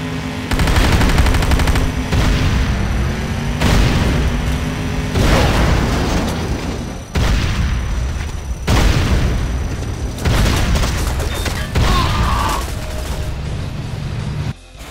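Gunfire and heavy explosions pound a Nod Tiberium Refinery in the Renegade game, with loud booming blasts at regular intervals over continuous rattling weapon fire, dense and close throughout.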